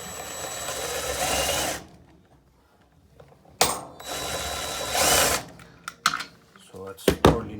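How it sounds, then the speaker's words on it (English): A power drill driving a fastener while retightening the motor pulley of a Daewoo dryer, heard in two sustained bursts of whirring with short clicks and clunks between them, close to the microphone. "on the drill it looks like I'm opening it, but in fact it's gonna retight it"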